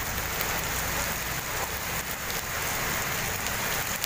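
Steady rain falls in a dense, even hiss on surfaces, continuous and fairly close with no voices.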